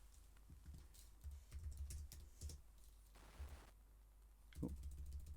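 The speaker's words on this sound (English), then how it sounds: "Typing it into the wrong cell." Keys clatter on a computer keyboard in irregular bursts of quick taps with brief pauses, close and fairly quiet, while a character sheet is filled in.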